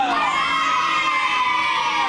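Children's supporters cheer for eight-year-old Natália during a kids' activity, a dense, steady wash of young voices shouting and whooping together, loud and close for the whole stretch.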